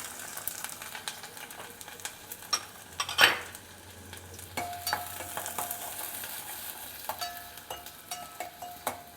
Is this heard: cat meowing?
no